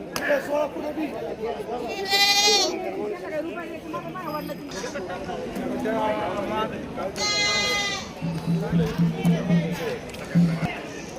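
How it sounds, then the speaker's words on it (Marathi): Goats bleating at a weekly goat and sheep market in Shirur, Pune district, loud nearby calls repeating over busy crowd chatter and people talking. "पाच चांगल्या क्वालिटीच्या शेळ्या आलेल्या आहेत तिथे विक्रीसाठी"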